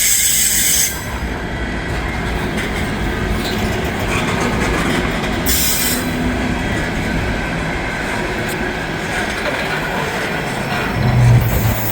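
A train rolling past close by, a loud continuous rumble of rail cars with clattering wheels and high metallic squeals, steady throughout with no speech.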